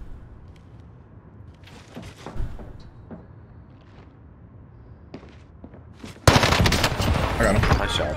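Video game gunfire in Warzone: scattered sharp single shots and thuds, then a loud sustained burst of rapid automatic fire near the end, with players talking between shots.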